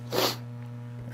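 A single short sneeze bursts out close up in a live radio studio during a morning talk show, then fades back to a steady low electrical hum.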